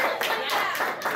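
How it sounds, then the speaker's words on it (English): A brief burst of audience applause at a quiz game held at an anime convention, with many hands clapping together for about a second. "give her a round of applause, guys"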